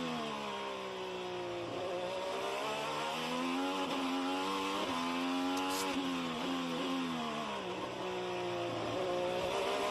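IndyCar race cars at the Nashville Grand Prix street circuit roar through a section into a corner, several engines rising and falling in pitch with downshifts and revs, loud and continuous with overlapping passes.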